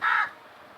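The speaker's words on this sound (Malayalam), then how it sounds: "നമ്മുടെ ഈ കാക്കയുടെ കൂട്ടുകൂടാൻ തുടങ്ങിയിട്ട് കുറച്ച് നാളായി." A single short, harsh crow caw, close and clear, followed by quiet background.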